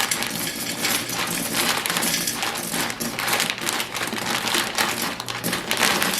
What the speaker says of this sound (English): I'm also filling up my penne jar